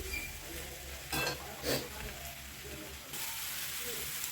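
Soybean curry masala stirred and fried in a pan, a low continuous sizzle broken by a few scraping stirs, close and fairly quiet.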